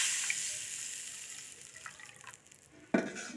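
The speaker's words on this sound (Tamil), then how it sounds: "இப்போது இதில் கொஞ்சம் தண்ணி ஆட் பண்ணிவிட்டு" Water pours steadily into a pan for making sago kesari, with a soft, fading hiss, then a sudden splashy clatter near the end.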